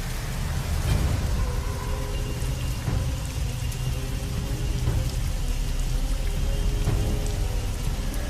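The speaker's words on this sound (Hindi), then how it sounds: "बारिश अब और भी तेज होती जा रही थी।" Heavy rain pours down steadily, a dense, constant hiss of drops hitting surfaces close by, with no voices.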